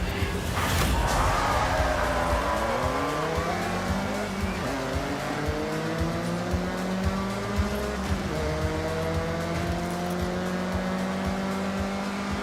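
A car revving and shifting through gears while driving in Forza Horizon 6, a steady engine drone with rising and falling pitch sweeps and faint tire noise, loud and continuous throughout.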